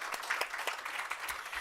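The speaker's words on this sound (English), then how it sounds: "please give a big applause for those people" A conference audience applauds, a brief burst of many hands clapping at a moderate distance, fairly soft and continuous.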